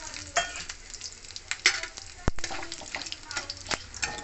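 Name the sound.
cumin, bay leaf, cinnamon, cardamom sizzling in hot oil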